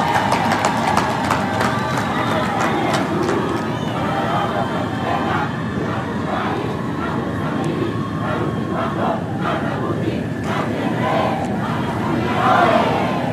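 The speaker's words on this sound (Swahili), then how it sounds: "Piga makofi mengi kwa Dr." A large crowd at a World AIDS Day commemoration attended by President Samia Suluhu Hassan applauds and cheers steadily, a dense roar of clapping and voices filling the whole stretch, swelling slightly near the end.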